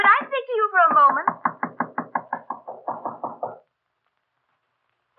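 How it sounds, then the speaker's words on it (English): A voice is briefly heard, then a door in a radio drama sound effect is knocked on in a steady run of about ten even raps before silence falls. "Standing there knocking, I suddenly realized that the door was ajar."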